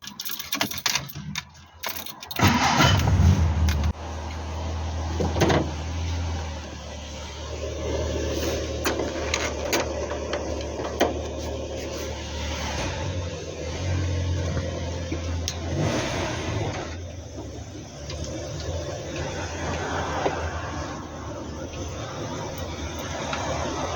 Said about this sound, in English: we'll just take the car out and we'll give it a bit of a run